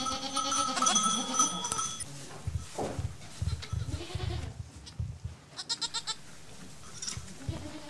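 Goats and a newborn kid at a goat farm bleat repeatedly, with several close, clear calls over a low, shuffling barn background and a short burst of rapid bell-like clinks near the end.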